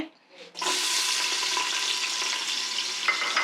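Onion frying in oil for a chicken curry tempering, a soft close sizzle that starts abruptly after a short quiet moment and then continues steadily to the end.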